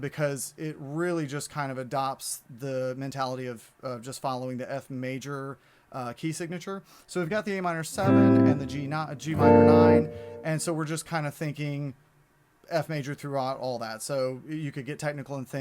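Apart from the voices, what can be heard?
No everyday noises stand out.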